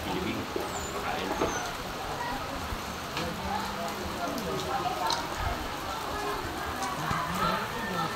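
Light, steady rain patters softly on surfaces during a typhoon, a faint continuous hiss with scattered drops, while people talk in the background.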